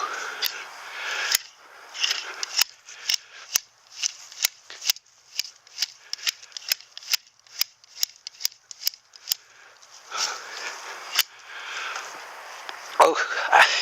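Scissors snip repeatedly at a Japanese garden plant cutting, trimming round it in a quick, fairly regular series of sharp, close clicks, with short pauses and a few faster bursts near the end.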